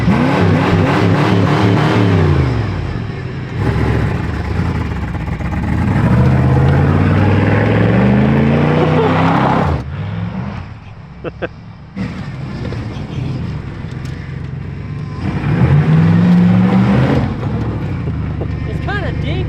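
Short custom-built car driving around a corner and drifting, its engine revving loud and close with rising and falling pitch, dropping away briefly mid-way before accelerating again, while someone talks over it.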